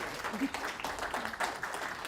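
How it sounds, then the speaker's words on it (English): An audience claps through a short stretch during a live event, the applause moderately loud and steady, with voices and cheering mixed in over it. "Let's give them a round of applause."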